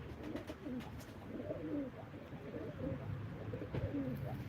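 Pigeons coo repeatedly in soft, low throaty phrases, several birds overlapping close by, with wing flutters and faint background noise.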